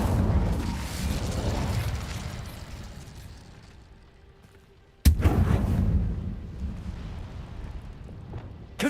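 The Incendio fire spell in Hogwarts Legacy, cast as a roaring whoosh of flame that swells and fades over five seconds, then a sudden loud blast and another sustained fiery rush.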